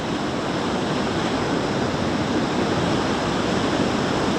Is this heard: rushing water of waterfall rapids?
yes